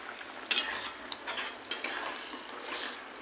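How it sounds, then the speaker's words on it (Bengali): Broth for a bhola fish curry simmers in a pan with a soft continuous sizzle and bubble, broken by a few sharp scrapes and clinks of a utensil stirring against the metal, close and with no voices. "এবার ঝোলটাকে ফুটিয়ে নেব।"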